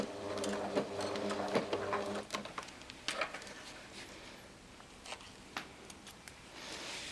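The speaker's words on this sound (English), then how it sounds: "And just do a back stitch there." Sewing machine running steadily and back stitching fabric to make a scrunchie, a close mechanical whir in the first couple of seconds followed by quieter handling clicks and rustles.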